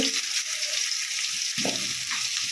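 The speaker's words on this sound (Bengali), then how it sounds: "এবার সব সবজিগুলো আমি একে একে সব দিয়ে দেব এবার আমি আলু গাজর" Potato, carrot and papaya frying together in a pan for Bengali shukto, a loud close sizzle with a few stirring scrapes over the hiss.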